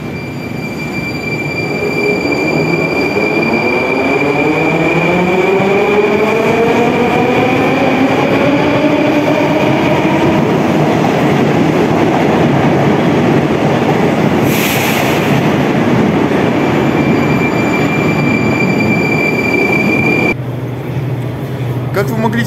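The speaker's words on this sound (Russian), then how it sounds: "этот поезд уехал в тупик" A Moscow metro train pulls out of Strogino station on the Arbatsko-Pokrovskaya line, its motor whine rising in pitch as it accelerates away, with steady rumbling of wheels on rail, a brief brake hiss near the end, then quieter platform hum.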